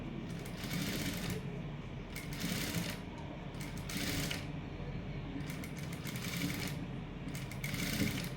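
A sewing machine stitching a slowly folded sleeve edge, close and moderately loud, running in short bursts of rapid needle chatter with brief slower gaps between them, no talk over it.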